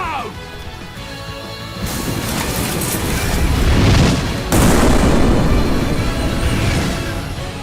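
Loud booming blasts and crashing explosions from a battle in Star Ocean: The Divine Force, building in two surges with a sharp new burst midway, over game music and voices.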